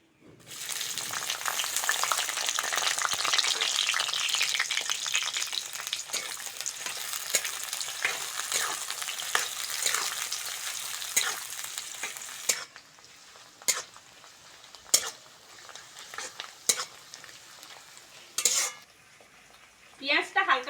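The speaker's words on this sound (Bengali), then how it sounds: "এইবার কুচনো পেঁয়াজটা দিয়ে দেবো" Chopped onion dropped into hot mustard oil with dried chilli and bay leaf, a loud dense sizzle that fades after about twelve seconds into sparse crackles and sharp clinks of a utensil against the wok.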